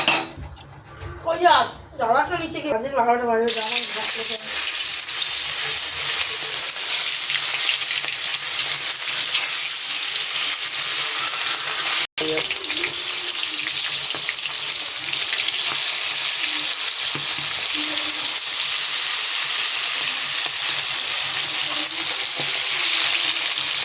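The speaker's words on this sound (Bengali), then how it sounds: "তেল গরম হয়ে গেছে, দিয়ে দেবো মাছ।" Fish frying in hot oil in a wok, a steady loud sizzle that runs continuously after a brief opening of clatter and voice, with occasional stirring scrapes.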